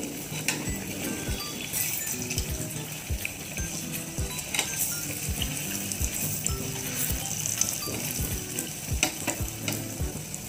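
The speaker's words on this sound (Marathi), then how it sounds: "वडे अशा प्रकारे आपल्याला छान तळून घ्यायचे आहेत सर्व बाजूने." Vadas deep-frying in hot oil on a medium gas flame, a continuous crackling sizzle with frequent sharp pops and bubbling bursts throughout, fairly close and steady, with no talking.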